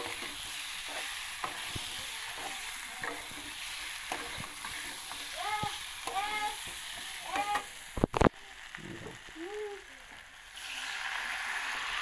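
Boiled-potato curry stirred in a pan gives soft scraping and light sizzling, with scattered clinks and a sharp metallic clatter midway; fairly quiet and close, with a faint voice in the background.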